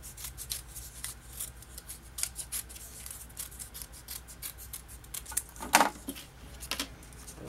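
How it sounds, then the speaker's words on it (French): Scissors snip through excess scrapbooking paper in a quick run of soft, close cuts, quiet and crisp, with one sharper snip near the end. "si j'ai de l'excès, je vais couper"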